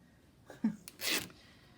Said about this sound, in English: she is coughing